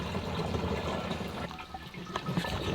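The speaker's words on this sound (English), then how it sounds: "let's fill the sprayer" Liquid compost poured into a garden backpack sprayer on a terrace: a steady close splashing and trickling fill with small gurgles and bumps partway through, no talk.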